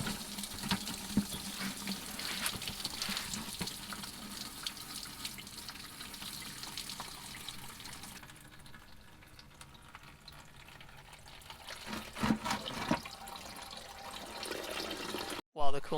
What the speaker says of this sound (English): While the coolant is draining